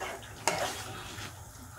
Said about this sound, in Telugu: ఇదిగోండి ఇలా తిప్పేసుకుని మళ్ళీ 1-2 నిమిషాలు మూత పెట్టుకుని మగ్గనివ్వండి